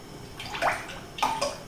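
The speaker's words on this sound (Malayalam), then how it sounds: "ആവശ്യത്തിന് എണ്ണ ഒഴിക്കുക." Cooking oil poured into a pan set on the stove: two short, soft liquid splashes and glugs in quick succession, heard close with no talking.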